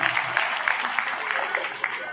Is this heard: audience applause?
yes